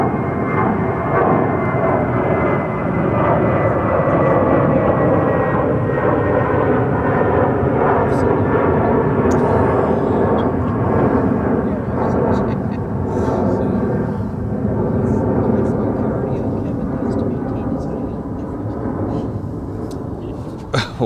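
Spirit Airlines flight 867 jet taking off at Dallas–Fort Worth International Airport, a loud, sustained engine roar that holds steady for about twenty seconds, with faint talk underneath.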